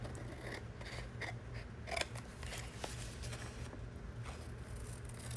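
Scissors snip through material in a quick series of close, crisp cuts, with short rustling pauses between the blades' closing strokes.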